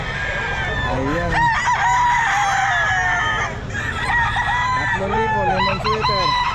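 A seven-month-old Lemon Sweater gamefowl rooster crows loudly and close in a busy pet market, two long cock-a-doodle-doo calls ringing out among clucking birds and background chatter.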